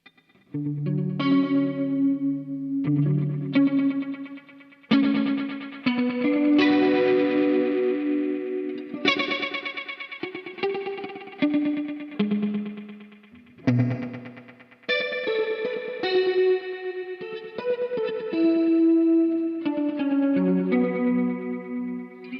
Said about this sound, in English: So you got gated reverb with a really short tape delay